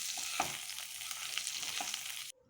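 Amla pieces fry with spices and turmeric in a pan for amla pickle, producing a soft, close crackling sizzle with a few small pops before it cuts off abruptly near the end.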